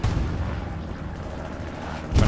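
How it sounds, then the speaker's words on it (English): Explosion in the World War II shooter Hell Let Loose at Carentan, heard as a low, rumbling boom that decays into a sustained distant roar, with a fresh heavy thump at the end. "Explosion happens down to the south."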